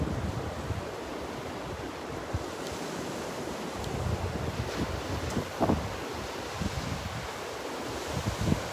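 Steady roar of a northeast wind buffeting the microphone over breaking surf on Vanderbilt Beach, with waves washing in continuously and no voices.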